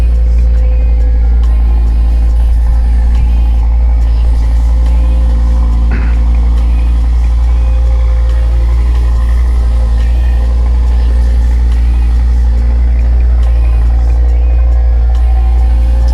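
2025 Audi RS3 engine while driving: a loud, steady low drone with constant road roar, heard from inside the car throughout with no talk.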